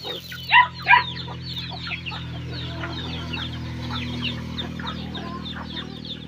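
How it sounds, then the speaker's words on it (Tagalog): Small chicks and hens clucking with a couple of louder calls near the start, then a steady chorus of soft cheeping and clucks over a low background hum. "Yan ang sisiw ko na maliit"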